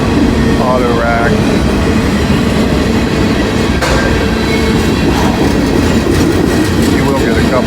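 A Norfolk Southern freight train rolls past on a rainy day in Lockland, a loud, continuous rumble of wheels and cars with rhythmic clatter and occasional squeal, a voice talking over it.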